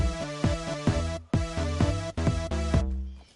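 A blocky synth melody from Fortnite music blocks plays short repeated notes in a steady bouncing rhythm, loud and close, ending with a brief pause.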